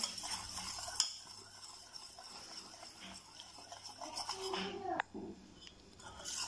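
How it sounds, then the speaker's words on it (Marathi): Cookie dough mixed with powdered sugar is whisked by hand in a bowl, giving a continuous soft stirring and scraping with occasional utensil clinks, and a voice talks over it. "एकाच डायरेक्शनने हे असं चांगलं फेटून घ्यायचं आहे 5 मिनिटं"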